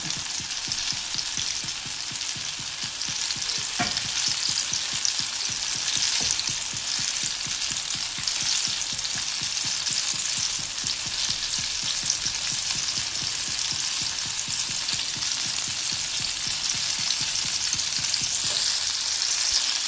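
Ripe banana pieces coated in bread crumbs deep-fry in oil, giving a dense, even, continuous sizzle close up for the whole stretch, with occasional faint pops and a light stir, and no voices.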